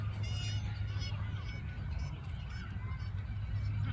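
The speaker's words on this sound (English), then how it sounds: "Hope you can hear me over those Canada geese." Canada geese honk repeatedly outdoors at a park-like spot, a steady chorus of calls over a constant outdoor rumble.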